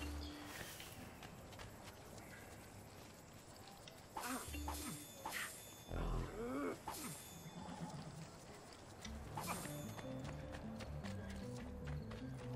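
Horse hooves clip-clop at a steady pace in Assassin's Creed 2, with a few whinnies and shifting game ambience around them for about twelve seconds.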